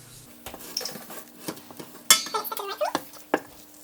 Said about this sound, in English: Kalina, I want you to start stirring so I can put in the milk